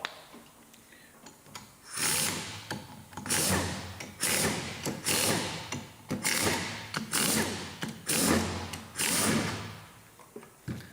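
Filter bolts coming out of a C4 transmission, heard as a close run of rhythmic mechanical ratcheting and whirring bursts from a tool, repeating about every second with short gaps, and no voices.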